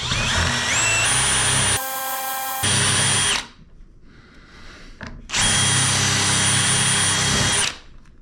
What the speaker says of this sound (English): once you got your hole, then you got to kind of wallop this out with the drill bit